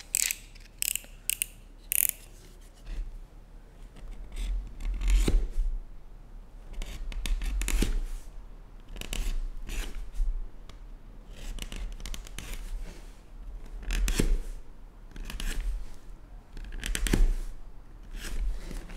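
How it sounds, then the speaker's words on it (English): A knife slices through shoe material with patient, repeated cuts, each stroke a short scraping rasp separated by pauses, a few quick snips early and slower drawn cuts later, close and clear with no talk. "And then I can cut these with a knife very patiently"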